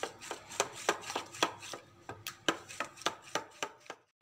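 Malpua batter mixed with cream is beaten by hand in a bowl, giving a quick, even run of about a dozen sharp tapping strokes, close and clear with no talking.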